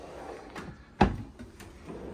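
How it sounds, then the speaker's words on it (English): A soft-close cutlery drawer in the galley of a 2025 Beneteau Oceanis 37.1 sailboat slides and closes with a single soft thud, preceded by faint shuffling; no voices. "a soft close cutlery drawer"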